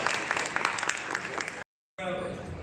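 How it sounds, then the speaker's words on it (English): Audience applause at a Philippine National Day ball in Australia, a short burst of crowd clapping heard somewhat distant, briefly cut off by a gap of silence before resuming. "I think she deserves a big round of applause."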